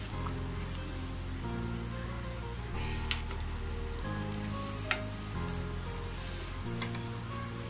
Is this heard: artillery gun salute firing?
no